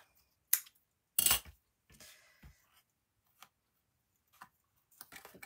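Scissors snip through card while making an artist trading card, a few short sharp cuts with quiet gaps between them, close and fairly faint, no talking.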